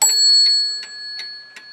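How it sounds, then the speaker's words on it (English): Bell on a Sessions beehive mantel clock, struck by hand: a bright ringing strike followed by several lighter metallic taps at steady intervals, each leaving a sustained shimmering tone, close and clear. "I'm gonna reach right here and ding the bell."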